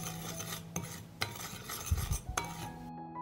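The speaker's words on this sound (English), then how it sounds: "I will mix the spices." Ground coriander, pepper and salt being mixed by hand for curing meat: quiet scraping and clinking of a utensil against a bowl, a few sharper taps, with no talking.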